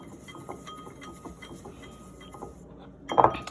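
A utensil stirs homemade scrub ingredients in a bowl, making soft, repeated scraping and light clinks close up, then ends on a louder knock against the rim.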